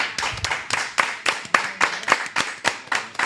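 A small audience at a Spanish-language talk event claps steadily in a quick, even rhythm, each sharp hand clap distinct and close, with no talking over it.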